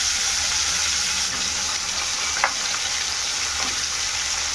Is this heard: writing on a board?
no